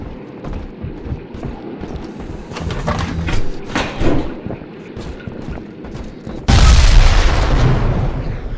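Bioshock 2 in-game bombing of the ballast compressors: scattered rumbles and metallic clanks build, then a sudden loud, heavy explosion bursts in and sustains a roaring, crackling blast.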